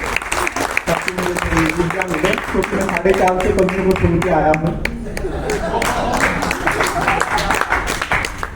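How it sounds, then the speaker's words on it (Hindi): Applause from the audience at a comedy poetry show, a crowd of many hands clapping steadily while someone talks over it in the middle and the clapping carries on to the end. "एक बार ताली बजा दीजिए"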